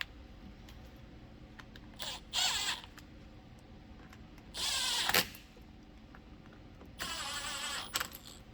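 A cordless power tool drives T20 Torx screws into a 2020+ Jeep Gladiator third brake light in three separate short whirring bursts, fairly close, over a quiet background.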